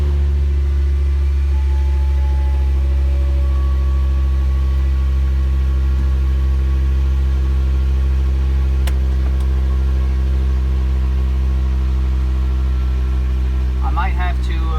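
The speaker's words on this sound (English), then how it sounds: "I'm gonna start the car." A 2008 VW Jetta sits idling with a steady, low, even engine hum that holds unchanged for several seconds, with a brief clatter near the end.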